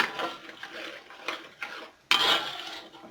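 Scraping and rubbing sounds of a utensil stirring a thick paste with cooking oil in a pan, steady and close, with a louder burst of scraping near the end.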